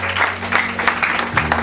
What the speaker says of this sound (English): Because someone keep on clapping.